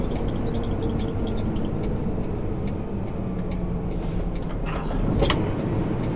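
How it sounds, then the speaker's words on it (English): An Old Dominion truck pulls out onto the road, heard as a steady, fairly loud engine rumble with constant road noise and a brief hiss near the end. "That looks like another Old Dominion truck pulling out."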